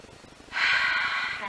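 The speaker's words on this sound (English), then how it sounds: "inhale through the nose and exhale out through the mouth" A single deep inhale drawn through the nose during a relaxing yoga flow, starting after a brief pause and rising into a close, steady airy rush that holds until the end.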